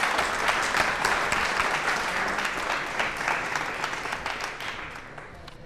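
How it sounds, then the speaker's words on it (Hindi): Steady applause from a large audience at a quiz show on elections at a technology institute, dense and sustained, slowly fading toward the end with no talk over it. "तालियां जोरों से बजाइए दोनों के लिए आप"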